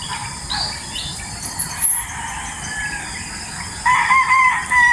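Roosters crow in the distance over a steady bed of insect or cricket chirping, with clucking fowl and a louder, closer crow toward the end.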